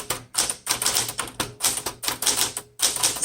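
A manual 1969 Smith Corona Super Sterling typewriter types in close, rapid bursts of key strikes with short pauses between them, alone and loud.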